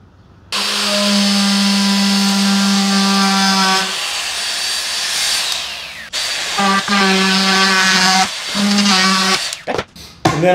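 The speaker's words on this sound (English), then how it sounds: "And then I use 1/8 of an inch roundover bit." A router fitted with a 1/8 inch roundover bit runs loud and steady with a strong motor whine, cutting along a wood edge in a few passes, spinning down and starting up again with brief gaps.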